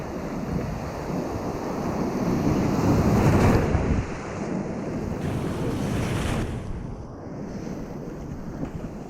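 Ocean waves surge and wash at sea while steady wind buffets the microphone, a broad continuous roar swelling and easing over several seconds with no voices.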